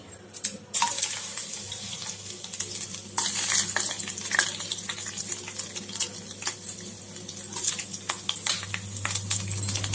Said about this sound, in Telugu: చిన్న ప్యాన్ పెట్టుకొని ఆయిల్ వేసుకొని రెగ్యులర్గా వేసే తాలింపే